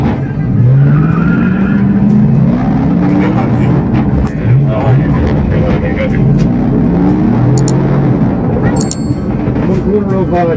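Tires squeal and a car skids during reckless street racing, with loud, sustained engine roar and wavering screeches over several seconds, while voices talk underneath.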